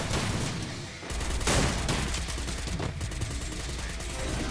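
Dense bursts of gunfire in the video game Free Fire crackle continuously, with rapid automatic shots layered into a noisy, sustained barrage.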